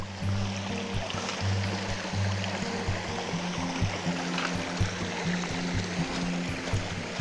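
A stream flows at a water crossing on the Appalachian Trail in Vermont, a steady rushing and gurgling wash heard close by, with faint low thumps underneath and no talking.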